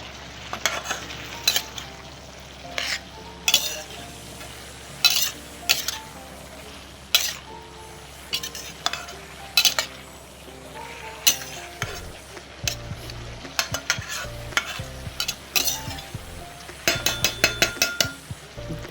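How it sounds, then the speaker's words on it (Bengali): A spoon stirs cabbage and fried potato in a pan, giving repeated scraping and clinking strokes at an irregular rhythm over a low sizzle, close and clear with no talking. "এবার আলুটা দিয়ে বাঁধাকপিটাকে মিশিয়ে নেব ভালো করে"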